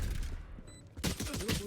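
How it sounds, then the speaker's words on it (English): Burst of gunfire in the tactical shooter Valorant during a post-plant round, a rapid cluster of shots breaking in about halfway through after a quieter stretch. "We hear gunfire."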